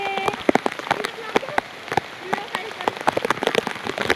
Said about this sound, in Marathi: खूप जोरात पाऊस आलाय.